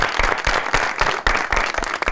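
A studio audience at a television talk show bursts into brisk, dense applause to welcome a guest. The clapping stays close and continuous through the short burst, with no talk over it.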